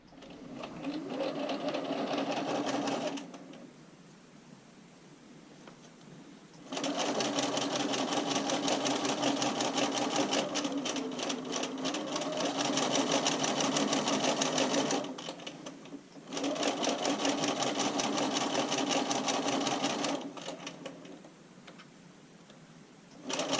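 Sewing machine stitching a bra seam, running in three loud bursts of rapid whirring stitches separated by quiet pauses, close up.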